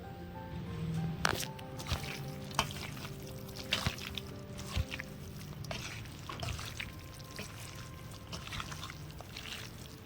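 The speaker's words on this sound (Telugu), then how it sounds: "దీన్ని కూడా కలుపుకున్న తర్వాత ఆయిల్ యాడ్ చేసుకుందాం" Spices being mixed by hand into chopped raw mango for village-style mango pickle, soft squishing and wet rustling with occasional small knocks, close and fairly quiet throughout.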